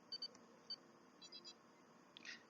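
Faint high electronic chirps from a ship's computer console in Star Trek Online, short scattered beeps and trills over a soft background hum.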